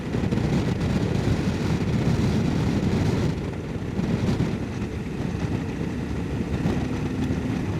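Dense roaring wind buffeting a helmet on a CFMOTO 800MT-X low-seat adventure motorcycle at highway speed, with engine drone underneath, loud and continuous, easing slightly partway through.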